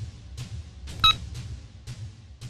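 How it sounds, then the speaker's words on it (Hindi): A phone is dialed in a film scene, giving a series of short, evenly spaced electronic beeps with one brighter, louder tone in the middle, set against a low background hum. "इस फोन से तो उस लड़की के भाई को फोन लगा।"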